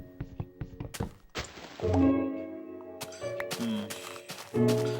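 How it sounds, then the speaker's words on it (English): Sparse, gentle Minecraft background music with sustained tones, broken up by a few dull thunks and knocking effects. "what you're hearing now is the music that will randomly play in this game"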